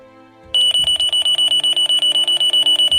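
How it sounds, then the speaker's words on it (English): A loud electronic alarm starts abruptly and blares in rapid, evenly spaced high-pitched pulses, repeating steadily without pause. "Once the alarm's set to blare, Plastic Man tells his son, That's the alarm"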